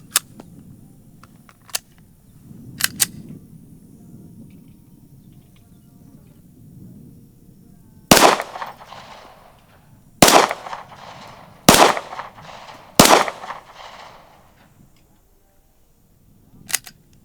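Four sharp, loud rifle shots from a SIG X10 Comet at a range, spaced a second or two apart with brief echoing tails, preceded by faint clicks, low murmur and handling noise.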